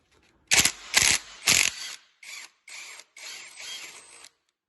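Close ratcheting clicks in quick bursts as an Allen key loosens bolts on a VW Passat B5.5 1.9 TDI engine, a few sharp runs followed by softer, shorter turns.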